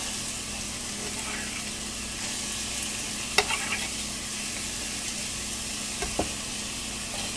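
Ingredients sizzle loudly in a frying pan for a Punjabi dish, a continuous close hiss broken by a few sharp clinks of utensil against pan, with no one speaking over it.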